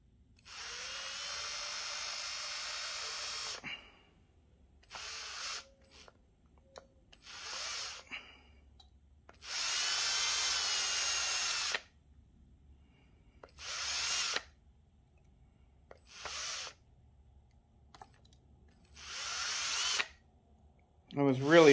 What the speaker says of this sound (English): you're drilling into that plastic